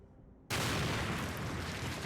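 A Molotov cocktail bursts in a Sherlock Holmes detective video game, a sudden loud whoosh of flame and blast that roars on as a sustained, dense rush after a quiet moment.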